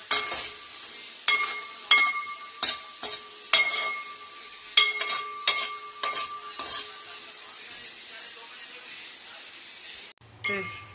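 Onions sizzle in a pan for chicken perattu, with a steady frying hiss and repeated close clinks of a spatula stirring in uneven bursts. The clink-and-scrape sounds stop near the end.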